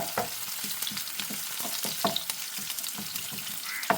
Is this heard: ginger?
yes